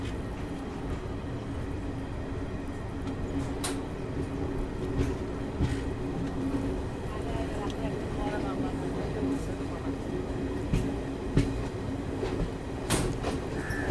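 The Tungabhadra Express, an ICF-coach train, rumbles at Wanaparthy Road station, a steady low drone with faint intermittent clanks and clicks, while people talk nearby.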